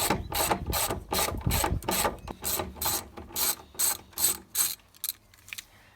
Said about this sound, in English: And now we just remove the bolts.